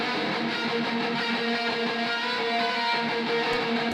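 Distorted metal electric guitar lead soaked in delay, reverb and a touch of chorus; sustained notes ring out in a dense, continuous wash with no gaps.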